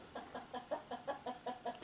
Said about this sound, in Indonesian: Juga ada suara ayam.